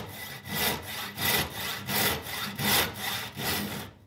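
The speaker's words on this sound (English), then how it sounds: "So we'll start cutting, and remember, always cut with the forward push of the saw." A hand push saw cuts through wood along a marked line, giving about eight steady, rhythmic rasping strokes at close range before stopping, with no talking.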